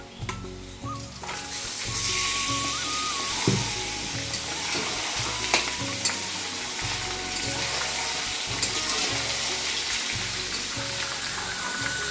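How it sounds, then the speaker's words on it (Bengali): Mutton tipped into a pan of fried onions and garlic cloves sizzles loudly and steadily from start to finish, with faint clinks and scraping of stirring underneath and no voices. "এখন মাংসটা ভাজা ভাজা করবো একটু, এর থেকে জল বেরোবে"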